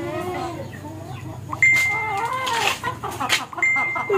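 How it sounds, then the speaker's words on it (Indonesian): Chickens cluck in a home yard in the morning, a string of short, fairly close calls with a few higher squawks and a brief thin tone, under light background noise. "Halo ayam, selamat pagi."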